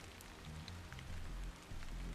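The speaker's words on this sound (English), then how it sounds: "This must be Earth's rain." Rain falls over a colossal city in a video game, a soft continuous hiss of drops with faint low rumbling beneath, quiet and steady over a couple of seconds.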